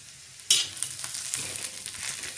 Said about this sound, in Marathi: आणि हे सगळं छान दोन ते तीन मिनटं परतून घ्यायचं